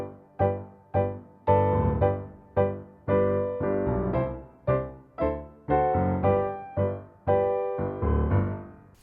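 Tango rhythm played in a major key on a tonal instrument, with sharply accented chords landing in a steady, clipped dance pulse that swells and repeats over several bars, loud and alone.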